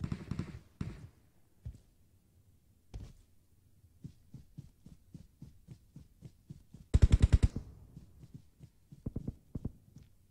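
Gunfire in the mobile battle royale game PUBG Mobile crackles in scattered bursts and single shots, some distant and faint, with a louder rapid volley near the middle.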